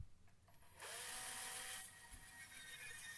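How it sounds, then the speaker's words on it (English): A power drill bores through a top piece of wood into a second piece beneath on a workbench, a close, high whirring whine lasting about a second, then easing as the bit slows. "we'll drill through the top piece, making a mark down into the bottom piece"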